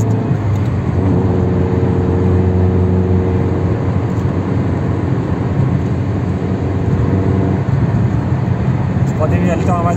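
Chevrolet Prisma engine cruising steadily in sixth gear at highway speed around 120 km/h and 3,000 RPM, a continuous loud drone with road and wind noise, with someone talking over it.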